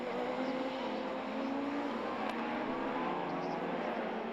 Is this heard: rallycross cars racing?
yes